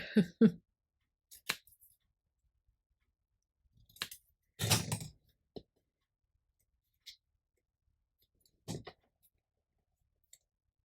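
Scissors trim paper for mini envelope junk journal dangles in a few short, separate snips and cuts, close and fairly quiet, with near silence between bursts.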